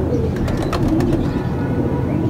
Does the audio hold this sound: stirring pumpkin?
no